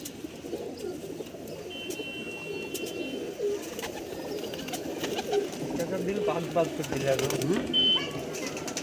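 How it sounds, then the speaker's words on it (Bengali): Several foreign-breed pigeons coo continuously in low, rolling murmurs, a crowded flock close by, with occasional higher chirps over a steady background hum. "আপনারা শুনতেই পাচ্ছেন অনেক রকম বিদেশি পায়রা সমাহার চাচার বাড়িতে"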